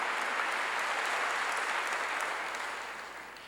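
A church congregation applauds steadily, a dense, even wash of clapping that slowly fades toward the end.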